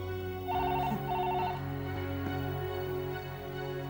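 A telephone rings in a Hindi TV drama scene, two short bursts of trilling electronic ring over a steady background music bed.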